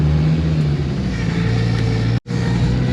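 Engine of a Toyota rock buggy with noisy power steering, a steady close mechanical drone with whining tones that cuts out abruptly for a moment near the end, then resumes.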